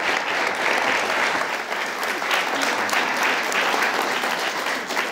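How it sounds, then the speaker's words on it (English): An audience applauds the first panel at a conference, with continuous, full clapping that holds at an even loudness throughout and no voices over it. "rise, Lillian, and Christina, acknowledge the applause from the audience for our first panel."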